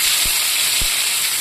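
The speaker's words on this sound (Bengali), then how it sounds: "কড়াইয়ের মধ্যে আমি পেঁয়াজটা দিয়ে দিচ্ছি।" Chopped onion fries in a wok with a loud, dense, continuous sizzle, close by, broken by two dull knocks of a spatula against the pan.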